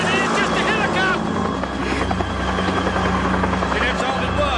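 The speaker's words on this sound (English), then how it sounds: "It's just a helicopter." A helicopter passes overhead as a steady, loud, low rotor drone with broadband roar that fills the whole stretch. Voices are heard under the engine noise.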